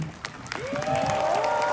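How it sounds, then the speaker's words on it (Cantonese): A concert audience at a graduation show applauds the dance teacher in a short, steady wash of clapping, while a voice rises over it. "多謝跳舞老師，我哋俾多次掌聲"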